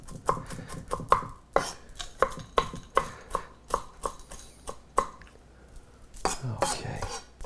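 A knife chopping food on a cutting board, a steady run of sharp close taps at an even rhythm that pauses briefly, then resumes with a few quicker, louder cuts.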